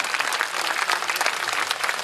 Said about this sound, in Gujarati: એકવાર જોરદાર એમના માટે તાળીઓ